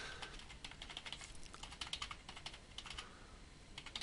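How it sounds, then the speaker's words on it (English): Steady typing on a computer keyboard while entering a web address, with clustered key clicks at an even pace throughout, fairly quiet and close. "So I'm going to go ahead and type in"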